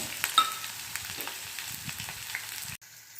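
Onion frying in hot oil with cumin seeds and mustard seeds gives a continuous close sizzle with scattered crackles, then cuts off abruptly near the end.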